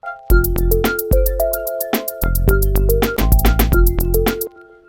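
A punchy synth bassline pulses through short, stepping notes, layered with plucky melodic tones in a quick, regular pattern; no talking.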